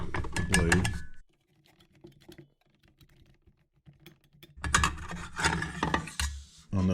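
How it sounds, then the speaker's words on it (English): Arbor bolt and blade being removed from a Makita circular saw: a loud burst of metallic ratcheting and clicking, a quieter stretch of light handling clicks, then another dense run of ratchet and metal parts being worked near the microphone. "go ahead and remove the arbor bolt. Remove this outer flange and then remove the blade."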